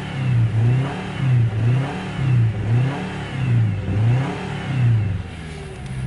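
A used 2014 Subaru Impreza with about 115K miles runs in a junkyard and is revved repeatedly, its engine note rising and falling in roughly five even surges over a steady idle, loud and close with no talking.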